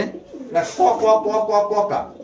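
Baga Silver pigeon at a home pigeon farm giving a loud, close, rolling coo that swells and repeats for a couple of seconds after a brief quieter lead-in.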